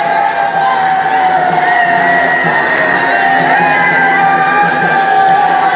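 Election supporters celebrating their candidates' lead during results counting, a loud, dense crowd roar of cheering and shouting, steady and sustained throughout at close range.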